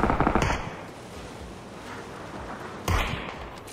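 Bursts of rapid gunfire crackle at moderate distance in the video game PUBG, one burst at the start and another near the end, over a steady background hiss.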